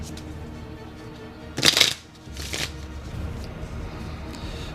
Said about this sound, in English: Let's deal cards.